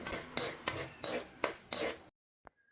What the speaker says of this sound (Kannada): ನಾನು ಹುರ್ಕೊಂಡು ಎತ್ತಿ ಒಂದು ಪ್ಲೇಟಲ್ಲಿ ಹಾಕ್ಕೊಂಡೆ.